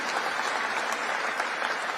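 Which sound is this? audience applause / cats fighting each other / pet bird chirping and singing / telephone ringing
audience applause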